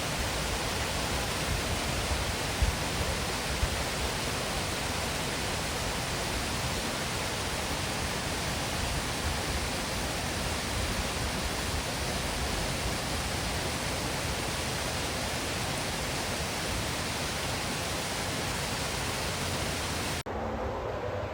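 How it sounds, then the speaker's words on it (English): Waterfalls in Southern Ontario roaring as a steady, dense rush of falling water, constant and unbroken for the whole stretch, loud and close with no voices over it. "those beautiful waterfalls right there."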